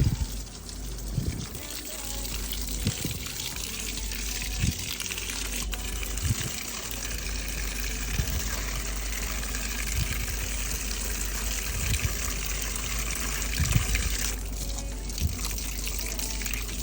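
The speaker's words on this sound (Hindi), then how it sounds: "इसलिए मैं रात को ही इनको पानी छानी दे आती हूँ।" Water poured onto potted plants outdoors at night, a steady rushing pour with soft splashes and dribbles running throughout, close by and fairly constant, with low thumps underneath.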